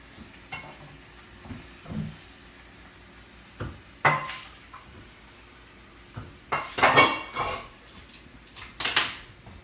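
Plates and cutlery clink and rattle in a home kitchen as dishes are set out for scallops and filet steak, with scattered light knocks building to denser, louder clattering near the end.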